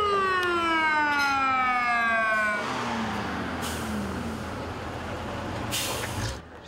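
Fire engine sirens wail loudly as the trucks pull up to an office building during a fire drill, with descending tones sweeping down and then giving way to a broad rumbling engine noise and brief high bursts.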